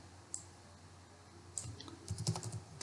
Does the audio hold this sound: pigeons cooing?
no